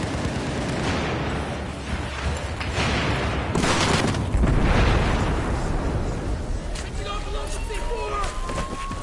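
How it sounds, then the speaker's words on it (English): Mortar rounds from enemy lines strike during a first-person multiplayer shooter match, landing as a continuous series of heavy booms and rumbling blasts over battle noise, with a rise around the middle and a player talking through it. "Mortar from enemy lines, from behind enemy lines."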